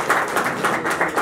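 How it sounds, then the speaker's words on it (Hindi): A live audience at an open mic poetry night claps in a loud, steady burst of applause, dense overlapping hand claps with no speech. "बहुत बहुत तालियां आप लोगों के लिए।"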